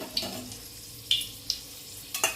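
Heated oil in a pan for egg bhurji gives off a few sparse, sharp crackles and pops over a quiet, steady background hiss.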